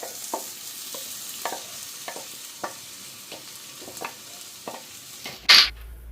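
Ground masala fries with tomato and green chili in a pan, heard as a soft sizzle under repeated light scrapes of a spoon stirring at an even pace, ending in a sharp louder clatter.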